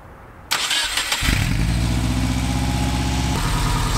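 A Subaru engine swapped into a Volkswagen van cranks and catches after a brief quiet moment, then settles into a loud, steady high idle, close up with no talk.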